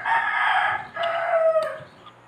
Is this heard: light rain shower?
no